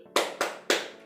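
Children clap in the Tepuk Nabi clapping chant during a third-grade Islamic studies lesson: three sharp, close hand claps in an uneven rhythm, each crisp and ringing briefly, with no talking over them.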